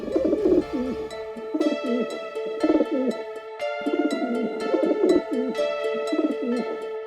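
Pigeons coo repeatedly in soft, rhythmic phrases, several birds overlapping, steady and fairly close, while a sustained musical tone plays underneath.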